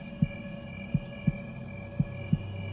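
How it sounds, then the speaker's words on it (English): Heartbeats in the video game Great Toilet Simulator, five low, soft thumps at an uneven, slowish pace over a constant electrical hum, with no talking. "I hear heartbeats. Why do I hear heartbeats?"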